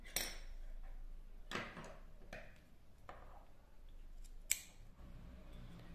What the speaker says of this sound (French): Maintenant, je peux couper ces fils.